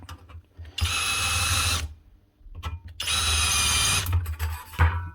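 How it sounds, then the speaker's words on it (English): A power drill countersinks a hole in two sharp whirring bursts, each about a second long, separated by a short pause and a brief start-up, close and fairly loud. "Quick wee countersink."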